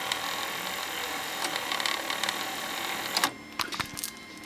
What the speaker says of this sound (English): I can actually operate the threading mechanism without the tape in. So I can check the threading motor